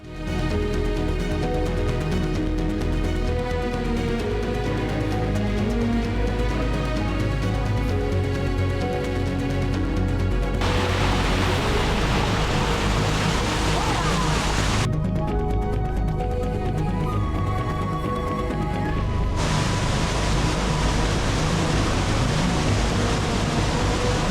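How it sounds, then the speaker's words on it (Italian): The waterfall in the Rio Fanes canyon, heard from its foot, sends up a constant, dense rushing roar that fills the whole stretch at an even loudness. "Scesi nel canyon ci si trova ai piedi di questa spettacolare cascata."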